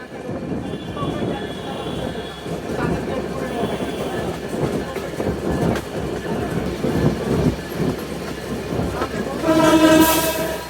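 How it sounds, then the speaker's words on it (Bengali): Intercity Ruposhi Bangla Express rumbles through Jurain level crossing, heard from on board with steady rolling clatter and a loud horn blast near the end. "আমরা এখন জুরাইন রেলগেট থ্রু পাস করে যাচ্ছি।"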